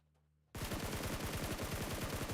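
In the video game PUBG Mobile, during a championship grand final broadcast, a brief silence gives way to loud, rapid automatic gunfire that hammers on steadily in an even stream of close shots.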